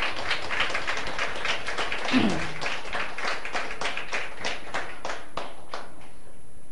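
A church congregation at a worship service applauds the Lord with brisk, steady hand claps. A brief voice cuts in near the middle, and the clapping thins out and fades toward the end.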